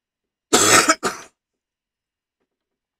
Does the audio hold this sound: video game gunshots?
no